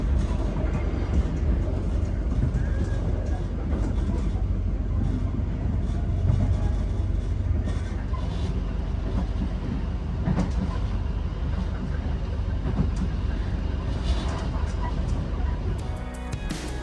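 The Gajayana passenger train runs on rails in Indonesia, a loud, continuous rumble and rattle of wheels and carriage heard from on board, steady throughout with slight rhythmic clatter.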